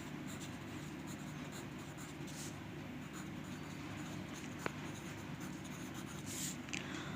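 Pencil or pen writing a number name on paper for a grade 5 maths exercise, a soft continuous scratching under a steady low background hum, close and faint, with no talking.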